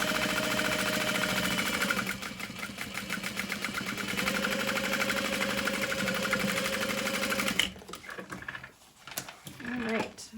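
A sewing machine stitches a tote bag seam at a slow, even pace, a close, steady whirring drone for about seven seconds before stopping abruptly, followed by a few short clicks and handling sounds.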